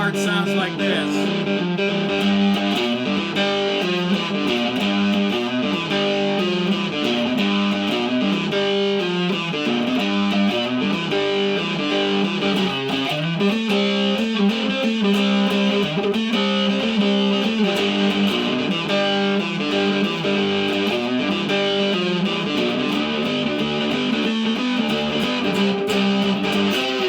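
Three-string cigar box guitar chugging a steady, driving boogie riff, continuous and upfront for the full stretch with no talking over it.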